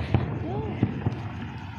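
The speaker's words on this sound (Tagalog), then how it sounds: "Ganda ng mga fireworks at saka yung dancing light nila." Distant fireworks display in Al Amirat, Oman, giving three soft booming thuds at uneven intervals, far off and muffled, with people talking nearby and a brief rising whistle-like tone.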